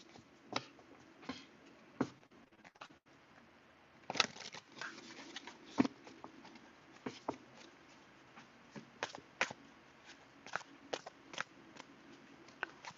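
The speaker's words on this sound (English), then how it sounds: "let's give it a couple of shuffles" A deck of cards being shuffled by hand for a psychic reading, heard as faint, scattered riffling flicks and soft taps spread across the stretch, quiet and close with no talking.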